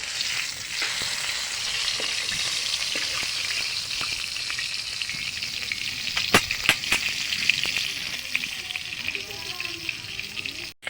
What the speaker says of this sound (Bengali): আর আমি এক এক করে সবগুলোই ভেজে নেব।